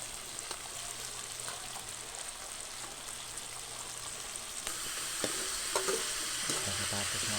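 Samyo sautéing in a pan after a little dried fish is added, a steady close sizzle with occasional scraping and stirring clicks that grow busier toward the end.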